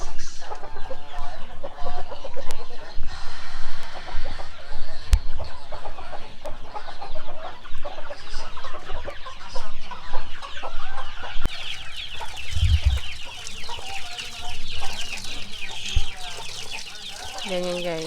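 Free-range chicks on a farm feeding: a steady chorus of clucking and high peeping from many birds nearby, continuing throughout.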